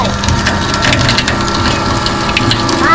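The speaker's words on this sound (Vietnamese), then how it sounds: "bà bật máy nhá. Bà cho hai cây vào luôn." Sugarcane juicer machine crushing two sugarcane stalks at once, a loud, steady grinding and crunching with wooden splintering and ratcheting mechanical clatter, close up with no talking.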